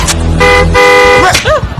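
A car horn honks in short blasts amid music and traffic noise, with a voice briefly audible.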